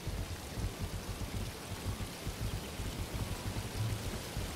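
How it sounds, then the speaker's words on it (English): Steady broadband rush of a waterfall in the video game Animal Shelter Simulator, a continuous even roar of falling water with no speech, fairly loud and close throughout. "Hear a waterfall or something."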